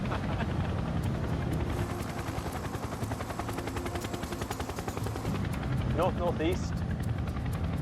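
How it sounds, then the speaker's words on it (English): A CH-47 Chinook helicopter flies at low level, its rapid rotor thump steady and loud throughout, with a voice speaking briefly over it near the end. "The Chinook proceeds at low level across the Antrim Hills"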